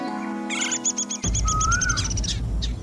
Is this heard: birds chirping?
yes